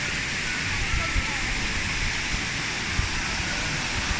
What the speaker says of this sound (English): Beside that amazing waterfalls over there